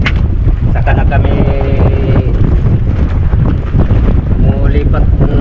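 Strong wind gusts at sea buffeting a small boat, a loud steady roar with rumbling microphone buffeting throughout and a voice talking briefly underneath.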